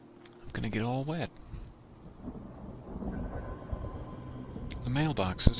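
Rain pours steadily with rumbling thunder in the Sanctuary Hills area of the video game Fallout, a continuous storm bed under a voice talking at the start and again near the end.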